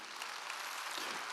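A church congregation at a Wednesday worship service applauds, giving a brief, even wash of many hands clapping at a moderate distance with no voices.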